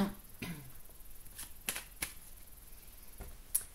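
Tarot cards being shuffled for a reading, a few sharp riffling flicks and soft slides, fairly faint and close, with no talking.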